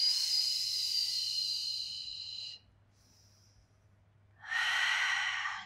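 Two long, audible breaths taken during a beginner Pilates spine mobility exercise, each a breathy hiss lasting a couple of seconds, close and clear, separated by a quiet pause.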